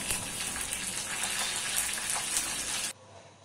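Curry leaves hit hot oil with popping mustard seeds and chana dal in a South Indian tempering, giving a loud, steady, close sizzle that cuts off abruptly near the end.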